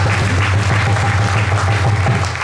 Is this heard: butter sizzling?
no